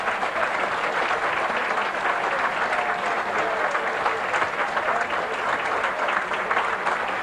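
A giant crowd at a Commonwealth Games lawn bowls event applauds a gold medalist, with dense, sustained clapping and cheering filling the whole stretch at a steady loud level.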